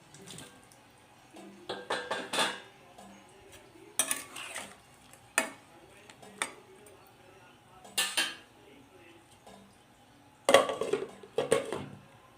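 A metal lid goes onto a pot of potato, cauliflower and tomato set to boil, with several close clanks and clatters of metal cookware separated by quiet pauses.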